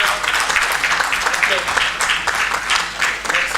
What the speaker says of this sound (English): Let's applaud for the winners.